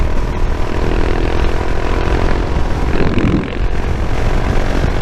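Royal Enfield Himalayan 411 motorcycle held at wide open throttle, a steady loud engine drone with buffeting wind noise running unbroken through the whole stretch.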